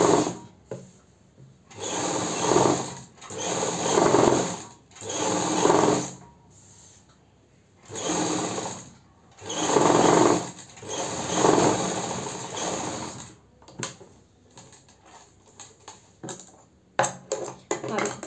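Sewing machine running in several separate bursts of a few seconds each while stitching along a fabric strip on the neckline of a Punjabi ladies' suit, with short pauses between runs and brief handling noises near the end.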